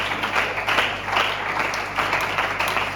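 A church congregation at Eglise la Porte in Brazzaville, Congo, claps continuously, a dense, even patter of many hands filling the room at close range, with faint voices mixed in.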